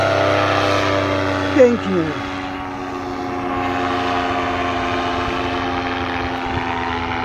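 A powered paraglider's paramotor during a training takeoff, its propeller engine droning loudly and steadily with a brief rise in pitch, while someone speaks briefly over it.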